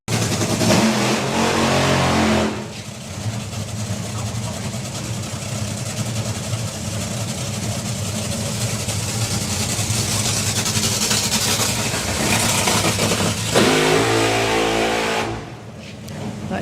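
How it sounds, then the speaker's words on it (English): Top fuel dragster engine at Santa Pod's European Finals, a very loud, raw roar sustained through a short, sharp burnout, then dropping off near the end. "very short, very sharp burn out there for India"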